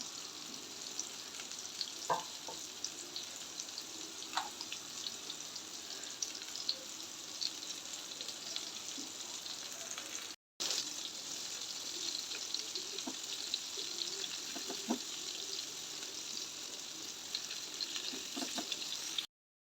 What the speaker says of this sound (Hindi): अब हम अच्छे से इनको फ्राई करेंगे एक साइड से, फिर इसकी साइड चेंज करेंगे।